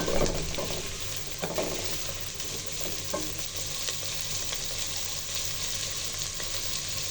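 Mixed vegetables with capsicum and green chillies stir-fry for egg vegetable fried rice, a steady soft sizzle broken by scraping stirs in the pan.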